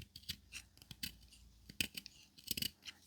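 Heavy cable insulation from an old electric arc welder is cut into short lengths. Close, quiet snipping and scraping crunches repeat irregularly, with no talking.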